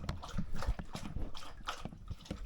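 Rapid, rhythmic wet lapping and slurping of a dog drinking water, fairly quiet and close.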